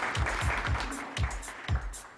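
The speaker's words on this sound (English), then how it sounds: "a big round of applause for her" An audience at a startup demo day applauds after a pitch, a short, moderately distant burst of clapping with a steady rhythmic patter of claps.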